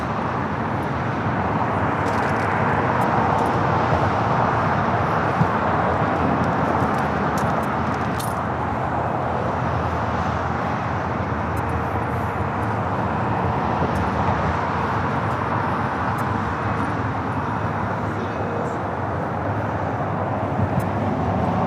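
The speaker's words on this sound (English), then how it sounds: "British Airways lining up." A British Airways airliner lines up at LAX for departure to London Heathrow, its engines giving a continuous broad roar with a steady distant rumble throughout.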